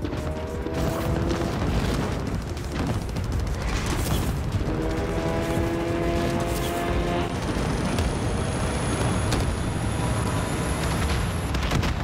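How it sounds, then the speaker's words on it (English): A train in the Call of Duty Warzone video game rumbles and rattles steadily through, with loud mechanical clatter, tonal whines and booming game effects layered over it. "Can I get on the train?"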